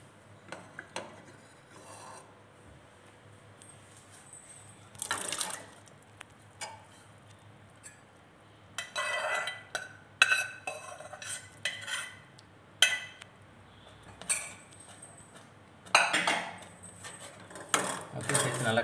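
Lima beans stirred into a cooking masala in a pan for a Tamil kulambu, with a spoon scraping and clinking against the metal in irregular bursts, close by and moderately loud with quiet pauses between strokes.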